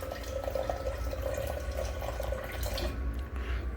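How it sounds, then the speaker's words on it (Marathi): Water is poured into a large shaker bottle, making a soft, continuous trickling and splashing that fills the clip and then tapers off near the end. The sound is faint and no one speaks. "आपण अजून थोडंसं पाणी घेऊ याच्यानं."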